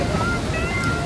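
Rough ocean waves surge onto the beach at Azhimala Shiva temple in Trivandrum, Kerala, a steady, loud wash of surf mixed with wind rumble against the microphone, with no pauses.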